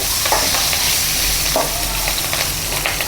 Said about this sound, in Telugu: కొద్దిగా కరేపాకు వేసి బాగా కలిపేసుకొని